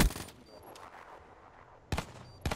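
Gunfire in the video game Black Ops 3 during an online competitive match: a short opening burst of shots, a quieter stretch, then two more separate shots, close and sharp.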